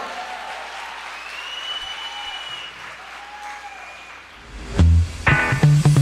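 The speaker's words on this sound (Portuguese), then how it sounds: "Aplauda o Senhor na vida dela" An evangelical church congregation claps along as sustained music with a held sung note continues, and a sharper burst of louder clapping and instruments enters near the end.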